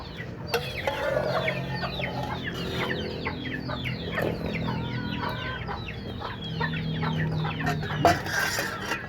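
Several chickens cluck and mutter steadily close by, with occasional sharper squawks, no talking.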